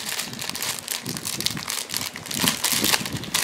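Crinkling, tearing packaging as an Amazon present package is unwrapped outdoors, a dense, steady rustle and crackle that stays fairly close and continuous, with no talk over it.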